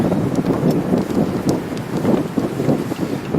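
Hooves of a working draft horse team clip-clop steadily at a winter farm fun day, a dense run of soft overlapping hoof falls under steady wind noise across the outdoor setting.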